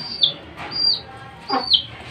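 Young chicken wandering alone, giving short clucking calls in two or three brief bursts close by, with no talk over it.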